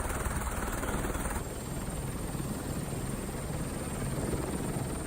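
Steady, loud helicopter rotor thrum fills the air with a constant chopping roar and high engine whine, heard from inside or very close by, flying heli-skiers over an Alpe d'Huez glacier.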